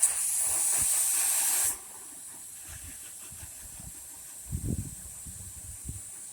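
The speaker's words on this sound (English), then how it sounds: "Spray her down, wash it up, and have her ready." A loud steady hiss of water spraying to wash a car, lasting under two seconds, then it cuts off, leaving faint background noise and a few soft thumps.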